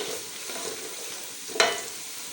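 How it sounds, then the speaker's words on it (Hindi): Spices with turmeric are stirred in a cooking pan for a potato and okra dish, giving a faint, low sizzle with one sharp scrape of the spoon near the end and no voices. "अब हम इसको अच्छी तरह से मिक्स करेंगे।"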